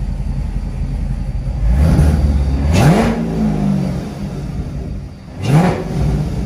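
A Corvette engine idles with a low rumble, then revs up hard twice, each time a loud rising roar that falls back to idle, close and alone.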